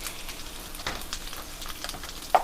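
Chorizo frying in a pan, turned down to low, gives a soft, crackling sizzle broken by light pops and a few stirring scrapes, with one sharper click near the end.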